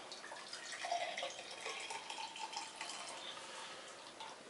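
Cappuccino coffee poured out of a military MRE ration pouch into a glass: a soft, steady trickle of liquid runs for several seconds, faint and close, with no talk.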